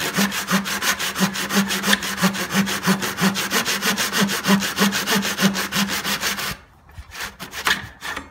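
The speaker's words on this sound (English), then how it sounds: "now I'm going to cut that piece through" A hand saw cuts through a wood piece held in a mitre box, with fast, even back-and-forth strokes rasping loud and close, then a few slower final strokes.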